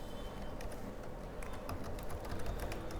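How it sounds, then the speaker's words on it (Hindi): Typing an email address on a computer keyboard while signing up for an online course, heard as a steady run of light clicking keystrokes over a constant room hiss, fairly close and with no talk. "अब साइनअप करने के लिए just I have to enter my email ID."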